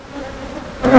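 Honeybees buzz in a dense, steady drone around an open hive. The hum swells sharply louder near the end as the bees are disturbed and fly up close.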